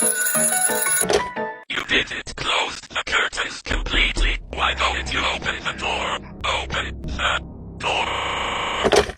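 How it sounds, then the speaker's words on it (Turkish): A telephone rings in bursts, bright and loud, alternating with grunting voices and scuffling, ending on a renewed ringing burst. "elinde tuttuğu telefon çalmaya başlıyor ve sunucu telefonu açıyor"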